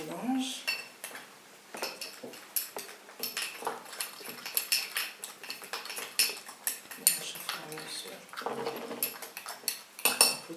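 A cosmetic powder base is mixed in a bowl, giving repeated close clinks and scrapes of a utensil against the vessel in an uneven stirring rhythm, with faint talk in the background.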